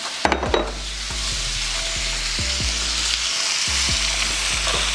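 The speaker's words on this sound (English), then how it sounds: "let's just go ahead and add our ground beef and our pork, or our Italian sausage" Ground beef and pork, or Italian sausage, sizzling steadily in a pan for spaghetti sauce, with a loud continuous crackle and a few low knocks of stirring or scraping near the start.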